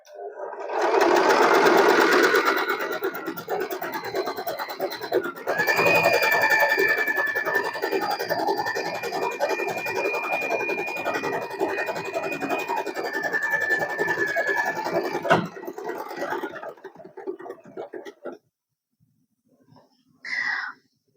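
An Usha Allure DLX sewing machine stitches at normal length in two long continuous runs, a close, steady whirring rattle that stops abruptly, followed by near silence and a short final burst.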